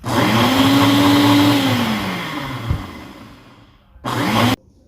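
A kitchen blender mixes keto blueberry crepe batter, a loud whirring motor that runs for about three seconds, winds down, then gives one short final burst.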